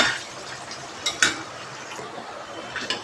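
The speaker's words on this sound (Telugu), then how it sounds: "లో ఫ్లేమ్లోనే ఫ్రై చేసుకోవాలి అప్పుడు మాడకుండా లోపల కూడా చక్కగా ఫ్రై అవుతాయి ఇవి" Meal maker pakodi frying in oil on a low flame, a soft continuous sizzle with a few sharp clinks of a utensil against the pan, close and fairly quiet, no talk.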